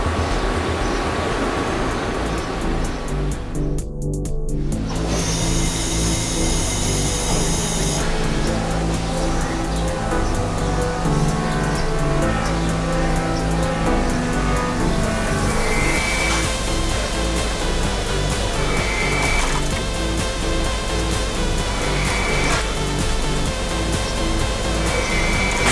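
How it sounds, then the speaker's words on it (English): A CNC machine drills with a 2-inch indexable drill under 1000 psi high-pressure coolant, making a dense, loud continuous roar and hiss with a brief pitch change early on and no talk. "Right now we're using a 2-inch index drill with a high pressure coolant, 1000 psi."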